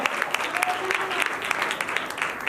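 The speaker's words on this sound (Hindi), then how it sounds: "तालियां भी मारो, तालियां बजाएं।" Audience clapping at a talk on stress, a sustained patter of many hands with a few sharp, distinct claps standing out, moderately loud, with faint voices mixed in.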